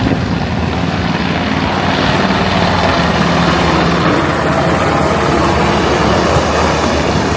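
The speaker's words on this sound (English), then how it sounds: "There's a helicopter." Loud, steady rotor and engine roar of a helicopter passing over the Star of India, a historic sailing ship, a broad continuous wash of noise with no speech.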